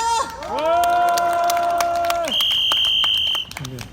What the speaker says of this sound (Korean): 김진억 본부장님 힘찬 박수와 함성으로 모시겠습니다